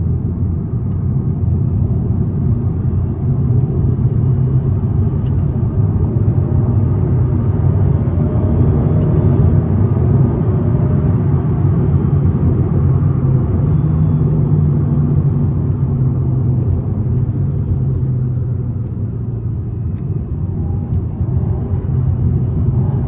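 An Alpine A110 sports car drives in manual mode, its engine giving a steady, loud low rumble and road drone from inside the cabin that barely changes for over twenty seconds.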